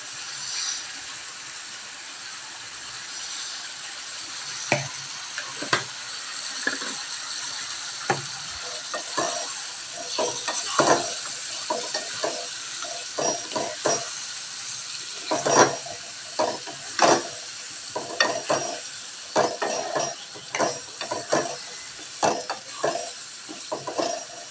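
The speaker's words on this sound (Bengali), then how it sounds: "এবার যেহেতু মাংসটা কষাচ্ছি তার জন্য আমি একটু লবণ অ্যাড করব।" Meat sizzles steadily in a hot pan while being stirred and sautéed, with frequent scraping and clinking of a spoon against the pan over a constant frying hiss.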